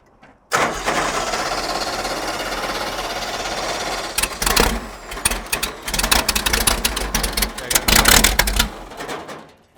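A Ford Pinto wagon engine being started: a long steady starter crank gives way to rough, uneven sputtering and knocking bursts as it tries to catch, close and loud, with brief voices in the background.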